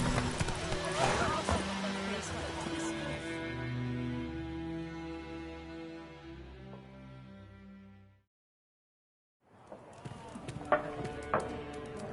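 A horse's hooves clip-clop in The Witcher video game with a steady trotting rhythm under music and talk, then cut to brief silence before the hoofbeats and voices resume.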